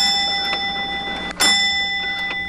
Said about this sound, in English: The bell allows communication.